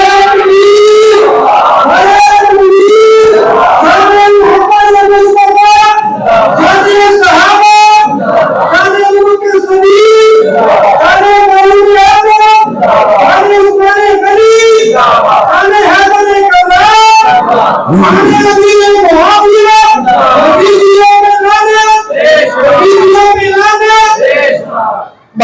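Large crowd at a religious sermon chanting slogans in loud, repeated unison bursts, with voices rising and falling rhythmically throughout.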